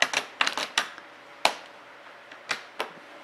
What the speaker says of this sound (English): you can hear it snapping into place.